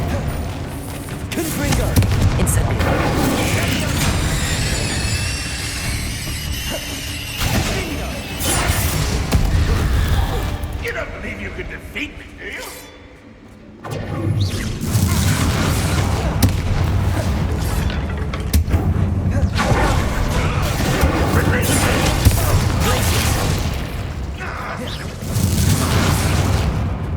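Repeated Confringo and Incendio spell blasts in the Hogwarts Legacy game, loud booming explosions and crackling fire bursts in a dense, nearly continuous barrage with a brief lull midway.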